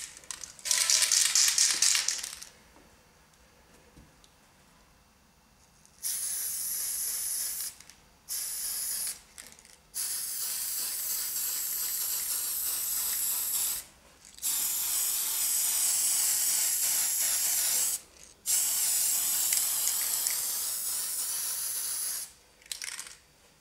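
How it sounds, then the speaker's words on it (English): Model train track being spray painted with Tamiya red brown aerosol: several long hissing bursts, loud and close, separated by brief silent pauses. "I'm also going to paint me track. And I'm going to paint it with Tamiya red brown."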